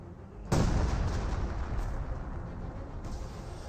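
A heavy in-game explosion in Company of Heroes 2 hits with a sudden loud boom, then rumbles and decays over a few seconds, alone with no talk.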